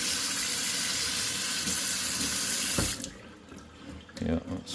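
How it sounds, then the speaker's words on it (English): Cold water gushes steadily from a Quooker tap into a sink while being flushed through, a close, loud hissing rush that cuts off after about three seconds, followed by quieter clinks and handling. "put a bit of cold in there as well to flush it through"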